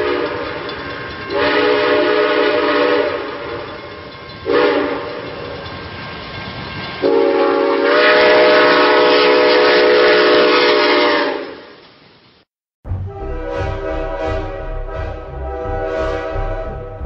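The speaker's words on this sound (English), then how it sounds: "Upon this midnight train." A train rolls past loudly, sounding several long blasts of its horn, the last one held for several seconds, before a break and the deep rumble of the cars continuing close by.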